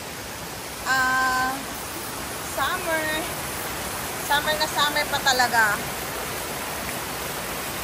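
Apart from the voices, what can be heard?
flowing stream full of water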